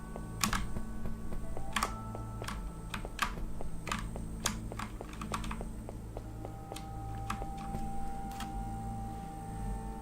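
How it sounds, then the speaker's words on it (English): Faint, irregular clicking of typewriters sounds over a steady low hum in a horror video game set in the 19th century, keys striking in uneven bursts with no talking. "You can hear a faint clicking of typewriters."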